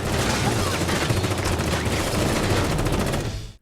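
A dense burst of rapid gunfire in a film crackles nonstop, loud and close, with booming low end before cutting off abruptly.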